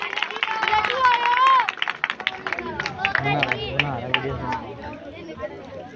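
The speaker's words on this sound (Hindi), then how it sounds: "जोरदार तालियां बजा दीजिए" Audience applause at a church meeting in 136 Chak, Pakistan: scattered hand claps blend with crowd chatter and a prominent voice sustained over the clapping throughout.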